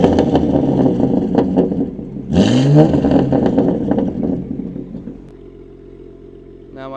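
A Lotus Emira's engine revs hard with its exhaust valves fully open, a loud rising sweep of bark up front before it settles to a steady idle rumble.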